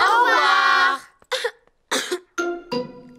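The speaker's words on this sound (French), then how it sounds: "Danny Dog et Suzy Sheep ont attrapé la toux de Pedro." Cartoon sheep and dog characters cough in a children's animated show, several short harsh bursts after a longer voiced throat sound, close and loud with brief silences between them.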